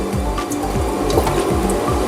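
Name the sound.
eggplant being put into water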